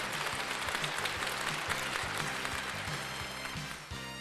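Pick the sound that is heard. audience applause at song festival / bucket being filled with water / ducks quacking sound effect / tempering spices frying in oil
audience applause at song festival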